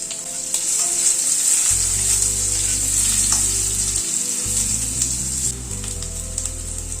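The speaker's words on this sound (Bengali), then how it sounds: "আলুটাকে প্রথমে ভেজে নেব ভালো করে" Salted potatoes frying in hot oil give a steady, loud sizzle that fills the whole stretch with a constant bright hiss and no voices.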